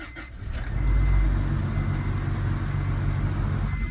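A Honda Integra GS-R engine catches and settles into a steady idle, a close, low rumble that swells briefly after starting and then holds even with no voices.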